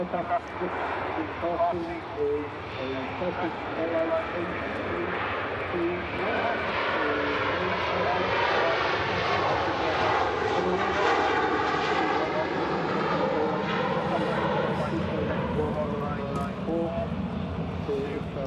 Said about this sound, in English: Turkish Airlines on the roll.